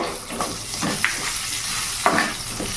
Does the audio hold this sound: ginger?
yes